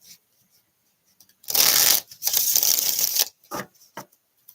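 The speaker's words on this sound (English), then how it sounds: "One more shuffle." Tarot cards are riffled and shuffled in two quick bursts, followed by a few short taps and flicks of the deck, close up.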